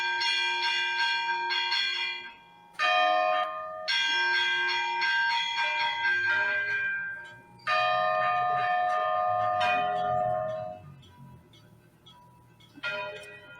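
Church bells ring out in a repique, a rapid festive peal of layered tones that overlap and sustain, pausing briefly between bursts before resuming loudly.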